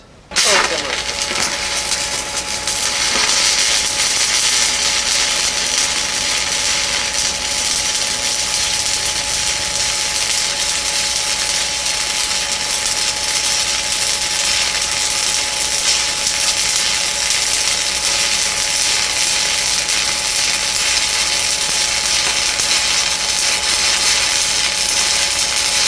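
Stick welding a root pass into a V-groove joint with a roughly 2 mm gap, a steady, dense crackling hiss that starts abruptly and runs continuously and loud for the whole stretch.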